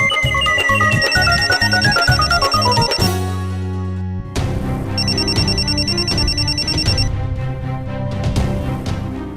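A telephone rings loudly in repeated bursts of bright electronic trills, then keeps ringing over a full, busy musical backing; no one speaks.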